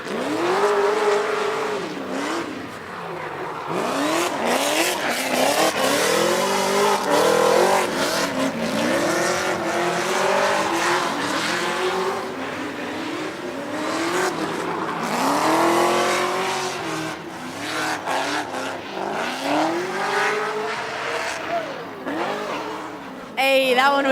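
A drift car revs hard and squeals its tires through a bye run at a Riverside drift competition, rising and falling engine notes in repeated swells over a continuous roar, with a crowd and voices faintly underneath.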